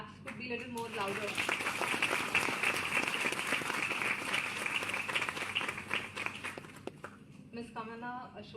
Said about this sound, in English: I think the claps could be a little more louder.